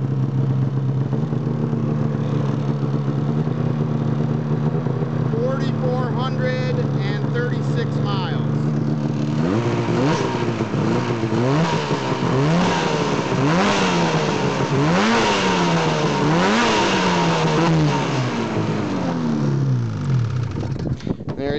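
A 2003 Ski-Doo REV MXZ800 X Edition snowmobile with a nearly new motor idles loudly up close, then is revved in a series of rising and falling blips, with a person talking over it.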